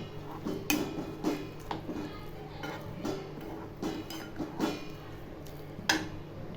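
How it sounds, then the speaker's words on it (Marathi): A spoon clinks and scrapes in a pan as ground dal zunka is mixed with water, with irregular close metallic taps about once a second over faint background noise. "पाणी टाकल्यावर चांगलं असं याला मिक्स करून घ्यायचं"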